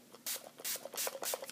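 Alcohol sprayed from a bottle onto a tissue for cleaning an eyeliner pen, four short soft hissing bursts in quick succession with faint rubbing between them.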